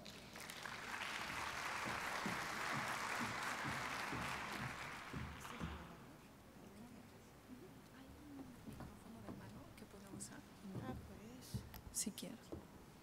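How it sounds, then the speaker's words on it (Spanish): An audience at a medical lecture on insulin resistance in obesity gives a burst of applause lasting about six seconds, then it fades as a speaker begins talking into a microphone. "para quienes pido un fuerte aplauso"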